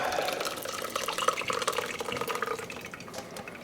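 Liquid poured out of a container through a strainer to remove seeds in a garden setting, a continuous splashing trickle that stays fairly close and steady before tapering slightly, with no talking.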